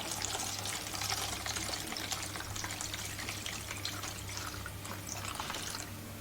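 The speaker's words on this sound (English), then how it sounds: "I have to drain all gas" Old gasoline draining from a Husqvarna 44 chainsaw, a faint, steady liquid trickle and patter running for several seconds against a quiet background with a low hum.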